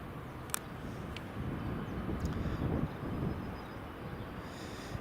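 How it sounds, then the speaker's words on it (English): Qatar Airways airliner lining up on runway 24 at Edinburgh Airport, a steady low engine rumble with broadband wind-like roar, moderately loud and continuous, swelling slightly mid-way, with a couple of faint clicks. "that's the Qatar Airways, just lining up now on runway 24"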